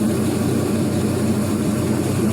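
A 4.8L LS V8 running on an engine stand, giving a steady, loud, even drone with a continuous low rumble and no breaks.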